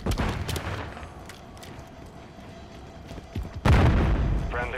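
A grenade blast and gunfire in Call of Duty: Modern Warfare III, with scattered shots early on and a heavy explosion boom near the end, set under game background noise.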